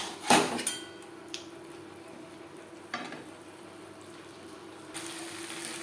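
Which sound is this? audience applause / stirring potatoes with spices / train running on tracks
stirring potatoes with spices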